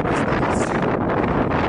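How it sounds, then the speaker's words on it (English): Strong wind of about 25 miles per hour blows from the north on a hiking trail, buffeting the microphone in a loud, continuous rushing roar with no one speaking. "Got about a 25-mile-an-hour wind blowing here from the north."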